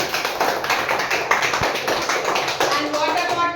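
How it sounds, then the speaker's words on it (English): Schoolchildren clap together in a third-grade environmental studies class, a dense patter of many small hands filling the room at steady loudness throughout, with some voices mixed in. "Clap for them."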